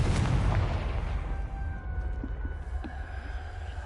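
A Confringo blasting spell bursts in Hogwarts Legacy with a loud, booming low-end explosion at the start, then a long rumbling decay with faint magical tones lingering underneath.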